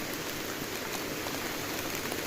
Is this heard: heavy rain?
yes